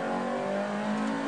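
A Ferrari F430 Challenge race car's engine revs with a steady, close mechanical drone that holds even throughout.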